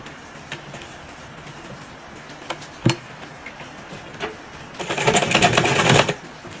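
A sewing machine stitches damask fabric for a ruffled turban: a few scattered clicks and handling taps, then a rapid, close whirring run of stitching lasting just over a second near the end.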